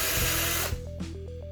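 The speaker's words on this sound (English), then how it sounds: "I'm going to go ahead and pop one or two of these screws out" A power drill backs screws out of a carpentry piece: a loud whirring burst that stops abruptly, followed by brief, quieter pulses of the motor.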